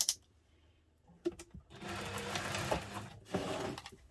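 A sewing machine basting fleece, starting with a few short stitching bursts and then running in a steadier whirring, clattering run that stops and briefly restarts, close and moderately loud.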